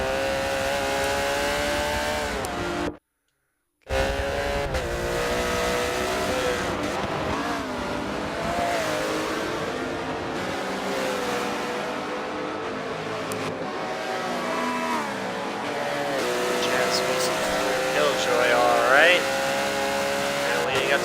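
GT race cars in an endurance championship round roar through a tight chicane, engines revving and shifting continuously under steady commentary, with a brief drop to silence early on.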